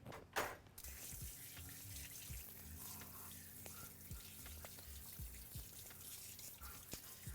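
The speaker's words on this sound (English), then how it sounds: "Quick little rinse of the hands." Tap water runs steadily as hands are rinsed at a kitchen sink while a fennel sausage hoagie is being made, a continuous close splashing hiss with small shifts in the flow.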